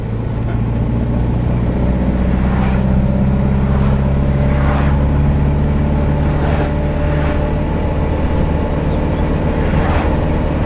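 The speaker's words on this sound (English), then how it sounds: "This car's incredibly loud." A 1952 Ford Anglia engine runs loud and steady with a low rumbling drone throughout, rising in a few brief revving bursts as the car pulls away.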